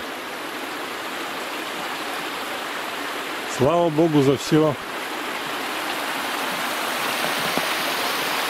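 Water rushing steadily through a breach in a camp pond on a misty April morning, a constant broad hiss; a voice speaks briefly midway.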